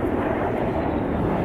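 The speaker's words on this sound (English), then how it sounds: "here's the jet coming over again." A jet aircraft passes overhead, a steady loud broadband roar filling the whole moment with no talk.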